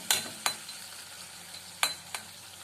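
Tamarind pulp fries in oil in a pan with a soft, steady sizzle, broken by a few sharp clicks and scrapes of a spoon stirring.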